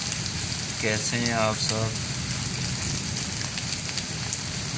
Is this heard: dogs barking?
no